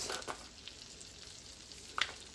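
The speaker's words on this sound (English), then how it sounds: "I'm just going to saute these green beans." Green beans sautéing in a pan make a soft, faint sizzle, with a few stirring scrapes at the start and a sharp clink of a utensil near the end.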